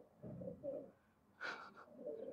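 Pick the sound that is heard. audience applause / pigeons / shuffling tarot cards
pigeons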